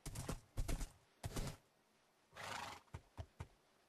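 A horse in the Minecraft video game neighs and whinnies in several short, loud bursts, with a longer drawn-out whinny near the middle, heard close up with no talking.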